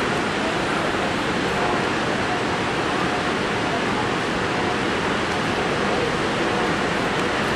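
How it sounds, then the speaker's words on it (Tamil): Water swirls and churns in the Niagara whirlpool, a dense, steady broadband roar of rushing water that fills the scene without pause, with no clear voices over it. "எப்படி எங்க ஒரு தண்ணி அப்படி போகுது, ஒரு தண்ணி இப்படி வருது போகுது"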